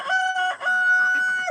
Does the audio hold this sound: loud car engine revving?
no